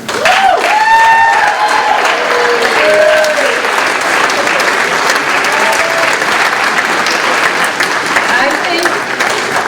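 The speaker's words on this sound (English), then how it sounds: "We ought to give Mr. Tully a big round of applause" A loud, sustained round of audience applause at a school Veterans Day ceremony, dense clapping from a large crowd with a few voices rising over it at the start.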